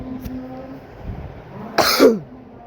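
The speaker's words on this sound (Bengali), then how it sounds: "আমার একটু কাশি হয়েছে" A single sharp cough, close and fairly loud, after a few seconds of quiet room tone.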